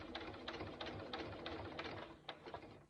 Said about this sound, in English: we're just gonna slowly sew around it